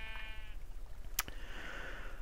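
A faint, wavering bleat from a sheep in a modded Minecraft-style survival island game, short and somewhat distant against a low background hum, with a brief click partway through.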